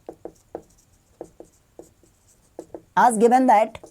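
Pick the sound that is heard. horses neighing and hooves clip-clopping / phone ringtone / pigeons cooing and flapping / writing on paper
writing on paper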